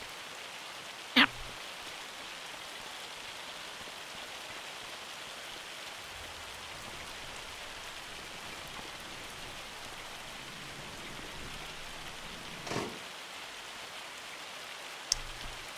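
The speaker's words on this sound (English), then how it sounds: "Oh, it's hailing. It's not even raining." Hail falls in Farming Simulator 25, a steady even patter of pellets hitting surfaces with a couple of sharper knocks, continuous and moderately loud with no talking.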